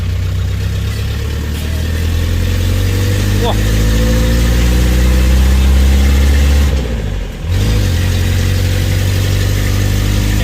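A Mitsubishi Cyclone pickup's engine, freshly back from a clutch repair, runs loud and close with a steady idle, dips briefly near the end, then settles back to a rough, constant drone.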